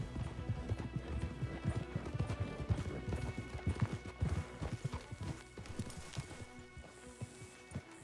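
Horse hooves in the video game Red Dead Redemption 2 clip-clop in a quick, irregular rhythm, fairly faint, with a soft snort or whinny mixed in; footfalls slow toward the end.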